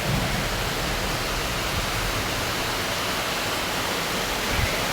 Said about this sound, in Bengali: দেখেন কেমন বৃষ্টি, কত জোরে জোরে বৃষ্টি পড়তেছে